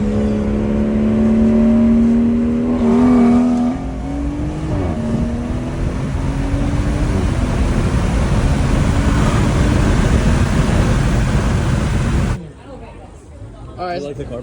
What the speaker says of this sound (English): here's an anti-lag clip